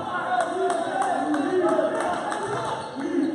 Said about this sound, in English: The crowd's coming alive.